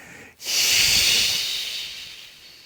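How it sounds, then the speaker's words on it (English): A long, forceful breathing-exercise exhale hisses like a snake, rising quickly after a brief pause, holding steady and loud near the microphone, then slowly fading out. "emphasize the exhale as if it could go out of the fingertips like a hissing snake"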